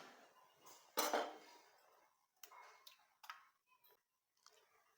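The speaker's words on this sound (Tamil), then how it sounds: "இப்போ ஒரு மிக்சிங் பவுலில் ஒரு முட்டை உடச்சி ஊற்றிக்கலாம்" An egg is cracked into a mixing bowl while making a Christmas cake: a sharp tap on the rim comes first, then soft clinks and small wet kitchen sounds, close and quiet.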